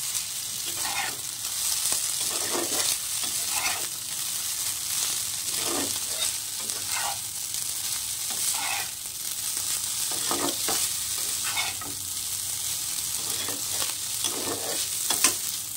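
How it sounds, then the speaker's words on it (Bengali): Chowmein with potato, carrot, green chilli and egg stirred in a sizzling pan, a continuous fry hiss with repeated scraping strokes of the spatula at a steady rhythm, close and alone. "ভেজে রাখা আলু, গাজর, কাঁচা লঙ্কা, ডিমটা দিয়ে দিলাম। দিয়ে আবারও ভালো করে মিশিয়ে নেব।"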